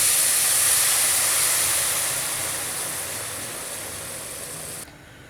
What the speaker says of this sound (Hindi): हम इसमें दूध डाल देंगे जो हमने अच्छी तरह से बॉईल करके रखे हैं।